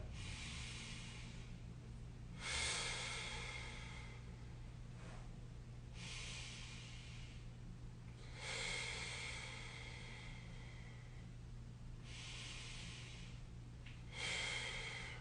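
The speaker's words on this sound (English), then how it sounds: "So nice deep breath in." Slow, deep breathing while lying on a foam roller for neck and upper back mobility, several long airy inhales and exhales repeating every few seconds over a low steady hum, quiet and close.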